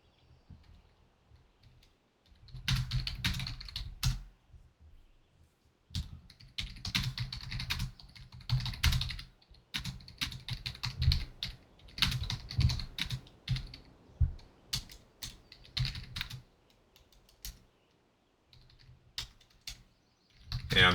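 Close, quiet typing on a computer keyboard during a World of Warcraft Classic dungeon run, coming as irregular bursts of rapid key clicks separated by brief pauses, with no voices.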